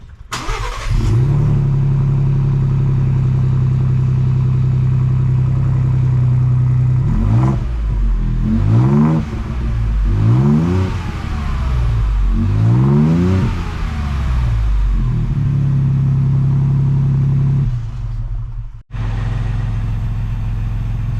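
A Ford Bronco fitted with an aFe Power cat-back exhaust idles with a steady, deep exhaust rumble, broken in the middle by several short revs before settling back to idle.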